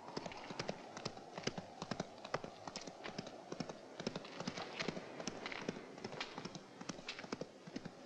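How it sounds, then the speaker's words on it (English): Horse hooves clip-clop steadily as a rider leaves an area in a spaghetti western set in California, a busy rhythm of sharp, fairly close hoofbeats fading slightly while carrying on for several seconds. "Allow the man on the horse to ride out of the area."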